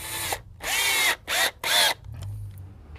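A power drill drives two wood screws into a landscape light fixture, giving three loud whirring bursts close by, separated by short pauses, followed by a quieter low whir.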